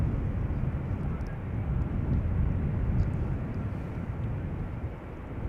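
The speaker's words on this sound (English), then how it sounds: "Next up is an A320 from Air Arabia Maroc, arriving from Nador in Morocco." An Air Arabia Maroc Airbus A320 arrives at Amsterdam Schiphol, its engines a fairly quiet, steady low roar from a distance, with no voices over it.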